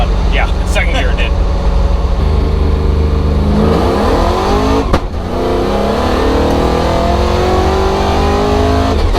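Supercharged Chevy Nova accelerating hard with its tires spinning, the engine roaring loud and close from inside the car as it climbs through the gears, with people talking over it.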